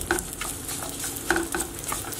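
Fried cashews and raisins with chaat masala get stirred in a pan, with light scraping and clinking strokes over a soft, even frying hiss.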